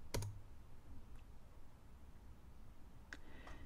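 A computer mouse gives a few sharp, isolated clicks spread apart over quiet room noise, close by and with no talk.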